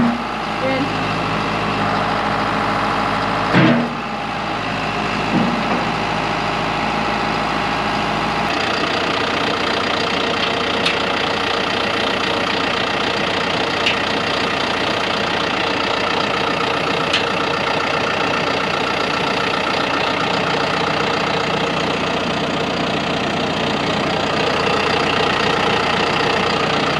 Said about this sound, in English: move the tractor into the shade